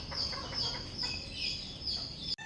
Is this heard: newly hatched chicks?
yes